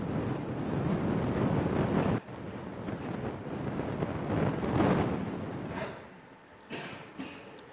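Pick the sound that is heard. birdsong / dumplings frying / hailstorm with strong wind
hailstorm with strong wind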